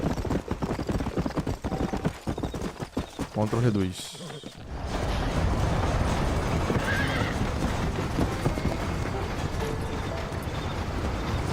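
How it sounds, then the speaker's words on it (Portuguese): In Red Dead Redemption, a horse neighs loudly and then gallops with rapid, continuous hoofbeats, while a voice talks over the start of the clip. "Para esporar o cavalo, aumentar a velocidade, aperte Shift repetidamente"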